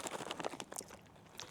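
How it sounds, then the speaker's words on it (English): Freeze-dried Skittles Pop'd candy crunched between the teeth, a quiet run of brittle crackling bites and chewing up close with no talk. "these ones seem to be a little more crunchy than the other ones"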